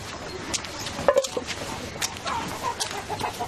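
A prize fighting rooster clucks in short, irregular bursts at moderate distance, with faint background noise and some muffled voices mixed in.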